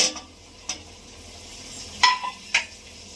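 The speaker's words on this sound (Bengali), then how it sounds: "এবার আমি আলুগুলো দিয়ে দিচ্ছি" Potatoes go into a pan of spiced chana masala and are stirred, giving a few sharp scraping clinks of a utensil against the pan over a faint sizzle, spaced irregularly and close by.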